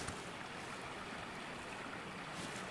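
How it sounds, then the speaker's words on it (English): Creek water flowing steadily through a desert palm canyon, a continuous broadband rush with no breaks, moderately loud and close, with no voices. "I can hear the creek"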